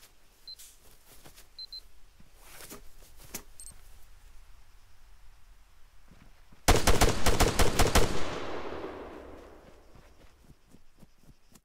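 Rapid burst of gunfire in the Arma 3 video game, loud close volley of shots lasting about a second and a half, then a decaying echo, after a quiet stretch of faint clicks and beeps.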